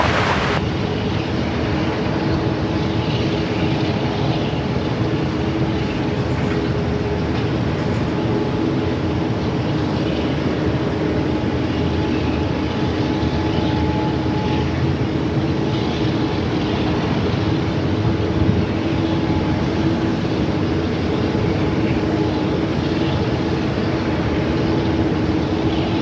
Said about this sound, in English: Qantas 740, wind 160 degrees, 90 knots, runway 16 right, cleared to land.